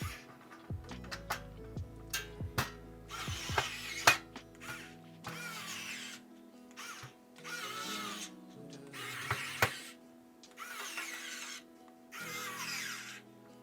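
A cordless electric screwdriver whirs in repeated short bursts, backing screws out of a Sega Genesis 2 console case, with clicks and small clatters of screws and plastic between the runs; no talking.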